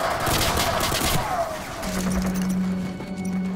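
Rapid gunfire and explosions in the video game Call of Duty 4, a dense, loud continuous clatter of shots with a rising engine-like tone near the end.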